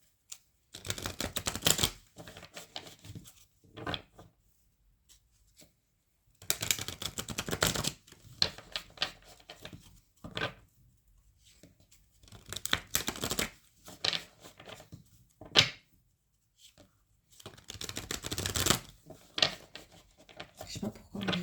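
Tarot cards being shuffled by hand in several separate bursts of riffling and shuffling, with quiet gaps in between; close and moderately loud, with brief speech between the bursts.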